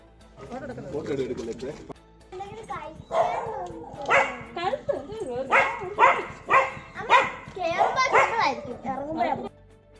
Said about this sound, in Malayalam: അലുമിനിയം കുടത്തിൽ തല കുടുങ്ങിയ തെരുവ് നായയെ രക്ഷിച്ച് അഗ്നിരക്ഷാസേന